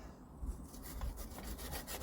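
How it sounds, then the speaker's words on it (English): A cupped wire wheel spun by a drill scrubs grime off a Lister diesel generator on a trailer, giving a steady faint rasping hiss with no talking. "This is one of them cupped wire wheels what you put in a drill."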